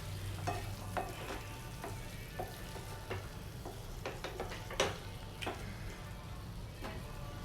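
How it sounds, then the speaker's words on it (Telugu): Mango pieces are stirred into fried tomato in a pan for a pachadi, a steady low sizzle broken by repeated spoon scrapes and clicks against the pan, close up with no talk. "మ్యాంగో అంతా కూడా బాగా కలిసేటట్టు మిక్స్ చేసుకోవాలండి"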